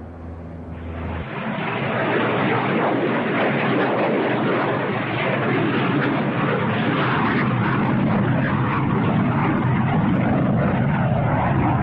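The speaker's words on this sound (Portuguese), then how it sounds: "Até hoje, o 22 continua sendo o maior avião a turbohélice do planeta." An Antonov An-22, a giant turboprop military transport, drones loudly and steadily, its dense broadband propeller and engine roar building in the first second and then holding close and continuous with no voices.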